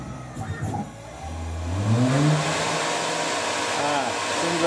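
A Tormach RapidTurn CNC lathe motor winds up, its pitch rising steadily, then holds a loud, even drone with a hissing whine on top.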